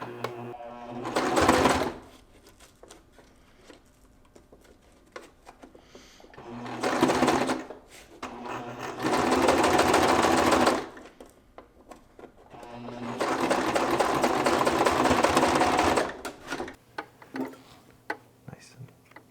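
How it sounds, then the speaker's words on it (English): A sewing machine stitches a seam on a harness wing in several separate runs, each a fast, close mechanical whir lasting a few seconds, with a person speaking in the pauses between runs. "we're going to basically just lock that down by stitching right along there"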